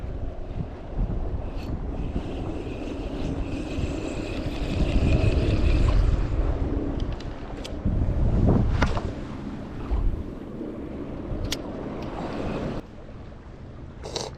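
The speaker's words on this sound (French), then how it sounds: "j'ai le vent qui m'emmerde un petit peu" Wind gusting hard across a microphone at the seashore during shore fishing for sea bass in the Gulf of Morbihan, a steady loud roar swelling into stronger buffets with faint water and surf beneath, no voices.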